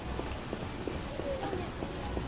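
Steady rain in the Witcher 1 video game, a soft, even hiss that runs throughout, broken by faint rhythmic footsteps or hoof-like knocks.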